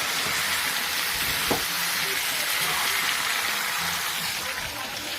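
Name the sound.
frying food in a pan with a lid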